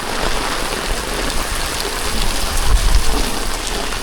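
Heavy rain pouring onto a Şakirpaşa street while walking, a loud continuous wash of drops with a low rumble swelling briefly near the end, no talking.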